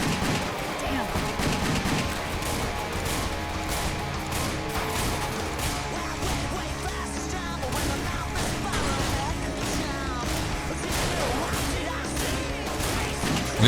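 Shotgun gunfire in the video game Wet, a rapid, dense series of loud blasts and impacts firing nonstop over busy game noise, with a voice talking underneath.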